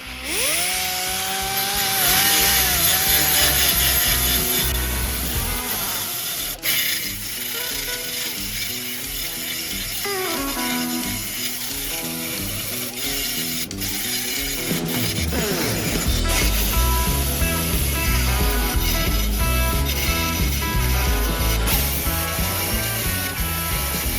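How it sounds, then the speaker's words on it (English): A grinder works down a welded metal patch on a 1928 Model A Ford hot rod, a loud continuous whine and rasp whose pitch dips and recovers as the disc bites and eases off. "now I gotta grind it down to the right size"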